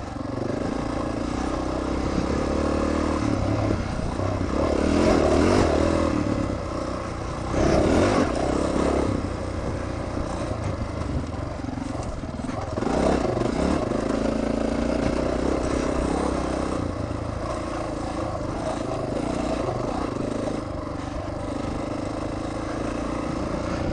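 Motorcycle riding along a road through a wildfire burn area in Colorado's Hayman burn zone, its engine droning steadily up close with rising and falling revs and some wind and clatter, no talking.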